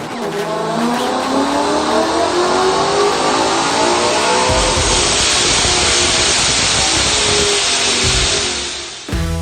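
A supercharged 2011 Mustang with a 5.0 Coyote V8 and Paxton blower revs hard and loud, its engine note climbing in sustained pulls with a rising supercharger whine, then easing off near the end.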